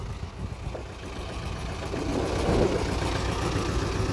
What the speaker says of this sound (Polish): Jest to ciągnik Agria.